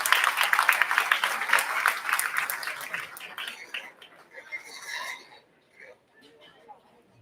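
An audience applauds at a Summit County, Utah county fair livestock market judging during the hog show, a dense wash of clapping that thins after a few seconds and trails off into scattered claps and faint murmuring.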